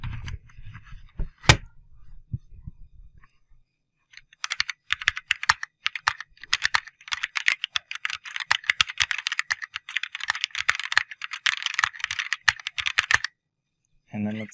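Typing on a CharaChorder Lite, a chording-enabled QWERTY keyboard, heard close up as a fast, dense run of crisp key clicks after a few isolated taps and a brief pause.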